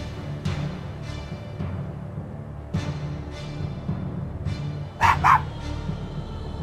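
A dog barks repeatedly in the video game ELEX, sharp yips and woofs spaced irregularly over a low steady game background, with two louder close barks near the end.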